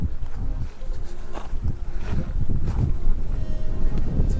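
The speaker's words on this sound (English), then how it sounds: "Pretty windy too." Wind buffets the microphone in low, rumbling gusts that rise and fall continuously, loud and close, with nothing else standing out.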